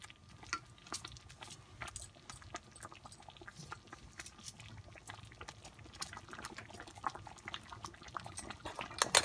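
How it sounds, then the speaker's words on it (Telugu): Rice cooking with jaggery in a pot for nuvvula pulagam, giving a faint, steady bubbling and soft popping simmer, close but quiet, with no talking. "ఇలా రైస్ని బాగా దగ్గరికి ఉడికించుకోవాలి"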